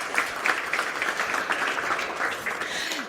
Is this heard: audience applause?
yes